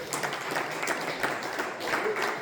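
A church congregation applauds during a sermon, a continuous soft wash of many hands clapping, steady and somewhat distant for a couple of seconds.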